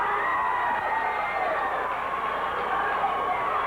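A wrestling arena crowd chants for Matt Bourne, a dense, loud, continuous roar of voices with a sustained tonal chanting quality and no breaks.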